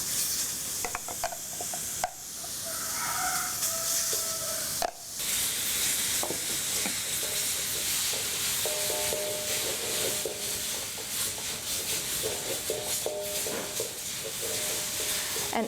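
Coconut paste sizzling in a hot pan over medium heat while being stirred to brown the grated coconut, a steady hiss broken by scraping strokes and a couple of sharp knocks, no talking.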